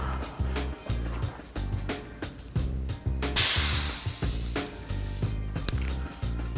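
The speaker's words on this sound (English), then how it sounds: "Next step, we'll just depressurize." A RockShox RL2 suspension fork sits at 75 PSI before being depressurized; a sudden bright hiss of escaping air starts midway and fades, over steady thumping background music.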